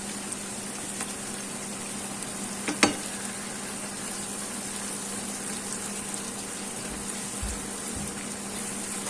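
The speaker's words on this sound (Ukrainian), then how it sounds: "уже отак піджарюється у нас" Low, steady sizzling of rabbit tongues frying in a pan, with a soft clink partway through; otherwise quiet and even, no voices.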